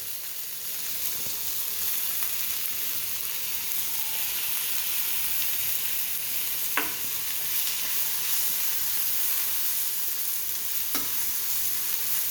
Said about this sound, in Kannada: ಸ್ವಲ್ಪ ಟೊಮೊಟೊ ಫ್ರೈ ಆಗಬೇಕಿದೆ